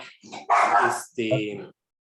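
A pet dog barks indoors, three sharp, close barks in quick succession, then silence.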